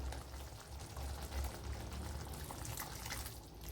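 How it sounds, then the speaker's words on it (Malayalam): Hot water pours into a pan of egg roast curry, a low continuous gushing and bubbling heard close and fairly quiet. "അപ്പോൾ കുറച്ച് വെള്ളം കൂടെ ഒന്ന് ഒഴിച്ചു കൊടുക്കാം."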